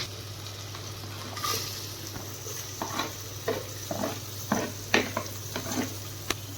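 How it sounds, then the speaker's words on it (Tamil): Onions frying in a pan with ginger-garlic paste for chicken biryani, a steady low sizzle under repeated spoon stirs and scrapes, close and moderately loud over a constant hum. "அடுத்தது பார்த்தீங்கன்னா ஆனியன் போட்டுக்குவோம்."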